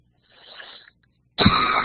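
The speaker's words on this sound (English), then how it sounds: "Sorry for the coughing." A person coughs twice indoors, a soft muffled first cough followed after a pause by a louder, harsher one close to the microphone.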